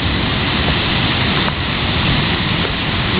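Lahar volcanic mudflow rushing past and moving very big boulders, heard as a loud, continuous roaring wash of water and debris close by with no pauses.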